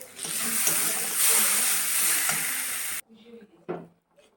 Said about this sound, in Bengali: এবার মশলা কষাটা আমি এতে দিয়ে দেবো।